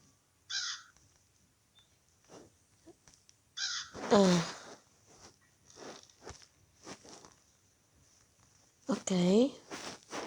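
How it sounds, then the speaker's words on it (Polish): Crow-like cawing from a bird in the horror game Granny, two harsh calls a few seconds apart, fairly close and loud, with quieter clicks and footstep-like thuds between them. "jakiegoś ptaka dodali."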